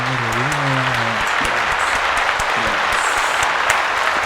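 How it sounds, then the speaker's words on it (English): Round of applause for the Brentford football club: continuous loud clapping from a group, fairly close and steady, with a voice briefly heard over it at the start. "let's give a round of applause for Brentford"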